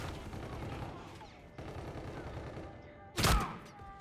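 Rapid bursts of gunfire from the RPR Evo video game, a continuous rattle of shots with a louder sharp blast near the end, under faint game ambience.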